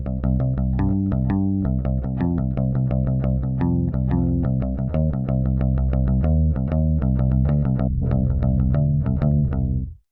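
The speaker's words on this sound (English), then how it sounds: "That was the sawtooth part, of course, with those extra little notes in there." A sawtooth synth lead plays the part from a game tune at a slower tempo, a steady run of bright, buzzy notes with little extra grace notes, continuous and loud until it cuts off at the end.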